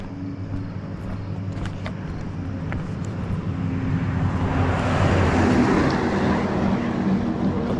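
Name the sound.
power company bucket truck driving past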